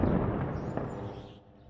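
Explosions during Israeli land and air attacks on the Palestinian city of Jenin: a loud, broadband rumbling blast that decays slowly, with a sharper crack near the middle and no voices.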